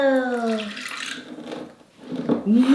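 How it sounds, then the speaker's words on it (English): Water is poured out for a children's snow-making experiment, making a short splashing gush that is brief and close, with voices talking over it. "Are you ready to pour the water?"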